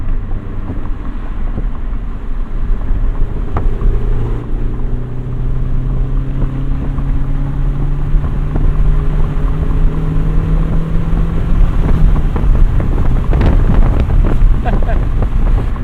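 A 1991 Honda Civic Si EF hatchback is driven at full throttle, its engine note climbing steadily and loudly through rising revs under heavy wind buffeting, with clicks and shifts near the end.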